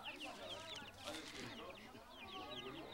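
Chickens clucking in a small brood, raised at home for eggs, a busy cluster of short chirpy calls close by with a faint voice murmuring underneath at low level.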